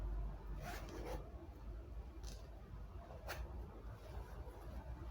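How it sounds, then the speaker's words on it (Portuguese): A skirt zipper being pulled closed during sewing at a worktable: a few short raspy zips, two close together early and a brighter one after the midpoint, quiet and close with light handling noise between. "Pode até fechar o zíper, acho que é melhor até."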